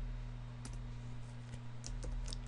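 Keys tapped on a computer keyboard while entering text into Adobe Edge Animate, a few scattered clicks over a steady electrical hum.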